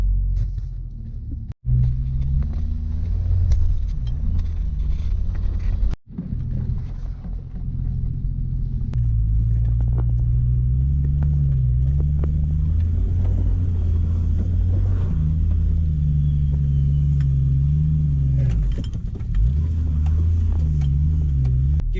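A Nissan GU Patrol four-wheel drive with a turbocharged TB45 engine on a test drive, heard from inside as a loud, steady low engine rumble with gear changes and shifts in revs, plus road and wind noise.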